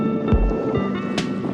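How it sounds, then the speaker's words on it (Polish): Wind gusting across a microphone outdoors in northern Norway, Saltdal, a low rumbling buffet with brief whooshing bursts over steady background noise, fairly close and moderately loud. "Nie ten wiatr, byłoby całkiem przyjemnie."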